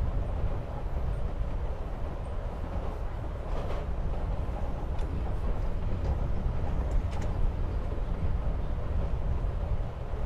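Steady low rumble inside a moving train in the video game Life Is Strange: Before the Storm, a constant muffled rolling drone with faint rattles and no voices.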